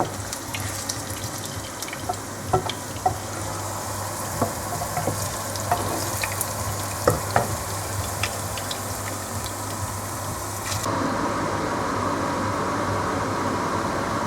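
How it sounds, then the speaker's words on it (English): Meat fries fast in hot oil in a pan while Kenyan pilau is being made, giving a steady, loud sizzle with small pops and crackles that swells slightly toward the end. "because they take long to cook, so I normally fry them fast."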